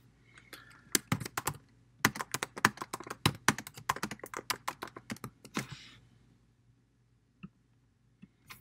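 Rapid, close clicking of computer keyboard typing comes in bursts of keystrokes for several seconds, then a few sparse isolated taps follow after a pause.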